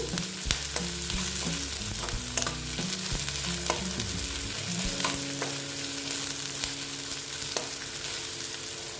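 Onions sizzle in hot oil in a pan as they are stirred and browned, a steady close crackle with scraping and occasional clinks, no talking.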